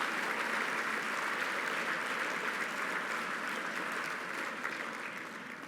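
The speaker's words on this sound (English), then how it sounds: "A special round of applause for our dinner committee and staff." A ballroom dinner audience at an awards gala gives the dinner committee and staff a sustained round of dense, even applause that tapers off slightly near the end.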